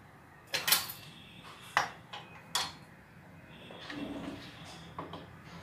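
A metal pan set back down on a kitchen stove, followed by a few sharp clanks and knocks of cookware and utensils at close range, then quieter handling and rustling.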